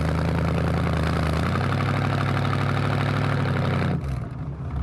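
A 1965 Ford Mustang Fastback engine idling steadily, a loud, continuous rumbling idle that shifts slightly in pitch partway through, with no talking.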